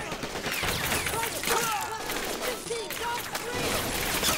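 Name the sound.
gunfire in the video game Men of War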